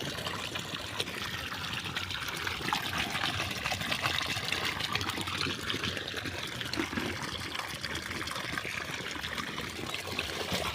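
Water pours steadily into plastic bottles, a continuous close trickling and splashing rush with no speech over it.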